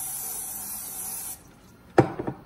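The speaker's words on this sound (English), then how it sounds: "we're gonna take and spray our bowl." Cooking oil sprays into a bowl for sourdough bread as a steady, close hiss that cuts off after about a second, followed by a light knock and a few small clatters.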